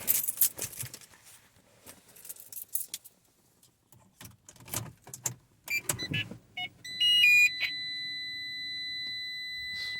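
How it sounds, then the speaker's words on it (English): A radar detector's loud electronic beeping starts partway through with a steady high pitch, after some rustling and clicks inside a 2013 Fiat 500 Sport, then continues as a sustained tone. "that loud beeping was my radar detector"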